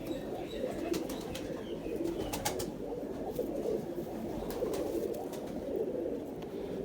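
Indian pigeons cooing steadily in a loft, a dense low murmur of overlapping coos with occasional sharper calls and wing flutters, close and continuous throughout.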